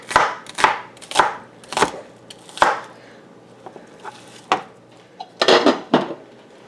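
Garden green onions are chopped with a knife on a cutting board: about a dozen sharp, crisp crunching strikes in uneven bursts, close and clear, with short pauses between groups.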